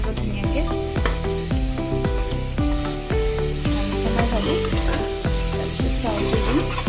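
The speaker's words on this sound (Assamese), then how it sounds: "অলপ ভাজি লোৱাৰ পিছত অলপ বিলাহী দি দিছোঁ অলপ ভাজিব লাগিব ধুনীয়াকৈ" Tomatoes and rice frying in a pan for egg biryani, a loud steady sizzle with repeated scraping stirs of a spoon against the pan, close up and with no talk.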